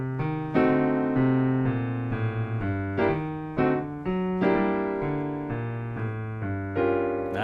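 Solo piano plays a swing B section as an accompaniment, with full chords moving in a bouncy rhythm, close and clear.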